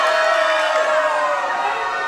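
A big, excited crowd at a wrestling event in the Battlefield Performance Center cheers and shouts loudly and continuously, a dense wall of voices that eases slightly toward the end.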